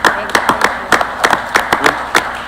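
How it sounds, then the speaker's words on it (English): A small audience at a county commission meeting claps in a loose, uneven rhythm, with individual hand claps clearly audible and a voice faintly underneath. "that deserves applause."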